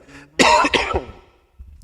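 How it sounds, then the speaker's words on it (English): Harsh coughing fit after smoking Pink Runtz cannabis: two or three loud, raspy bursts close up, then a short throat-clearing tail fading into quiet. "I'm coughing off this shit now."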